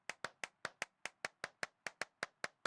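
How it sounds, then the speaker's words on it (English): Single hand claps ring out inside a large abandoned church, one about every fifth of a second in a steady run of roughly a dozen. Each sharp crack is followed by a short reverberant tail, with no voices. "I was just clapping too."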